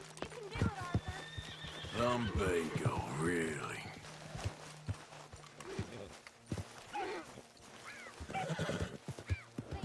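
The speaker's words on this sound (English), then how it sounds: "Oh, shit, the horses! Damn horses!" Horses whinny loudly and hooves clop nearby while people talk over the commotion, in the video game Red Dead Redemption 2.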